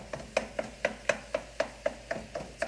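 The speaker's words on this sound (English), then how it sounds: "give this a little bit of a stir" A spoon knocks and scrapes through stuffed-pepper filling cooking in a pan, making a run of about a dozen evenly spaced, fairly close taps and scrapes with a faint background hiss and no voices.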